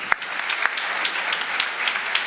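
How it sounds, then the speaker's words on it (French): Applause from an audience at a cybersecurity awards ceremony honouring a woman professional, close and steady, with individual sharp claps popping out of the dense, even patter. "On peut l'applaudir, bravo."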